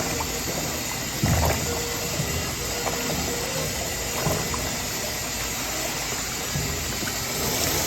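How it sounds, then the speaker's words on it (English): Sushi rice being washed in water, with continuous sloshing, swishing and gushing of water and grains in a bowl, close and fairly loud, punctuated by a few louder splashes and knocks. "When you wash the rice, we wash the rice until clear water."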